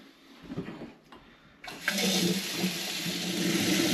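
Running tap water gushes over a home brew airlock being rinsed out, starting with faint handling noises and then swelling into a steady, close splashing stream.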